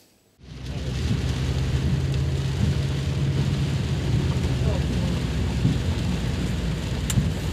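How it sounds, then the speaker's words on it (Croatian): Heavy thunderstorm rain pouring over city streets in Dubrovnik, a steady loud wash of rain and runoff that starts abruptly and holds constant throughout, with low rumbling underneath and no talk. "Grmljavinsko nevrijeme okupalo je Dubrovačke ceste i ulice, pa poplavilo i one dobro poznate točke."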